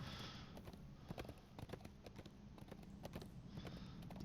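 A video game horse trots along at a steady clip-clop, hooves striking in a quick even rhythm over a faint ambient background.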